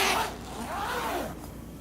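The zipper on a harmonium case is pulled open in one quick rasping pull, close and moderately loud, followed by a soft rustle of the fabric case.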